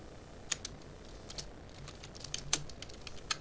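Quick, light clicks of typing on a computer keyboard, close and fairly quiet, with irregular keystrokes and a few sharper taps over a few seconds, no voices.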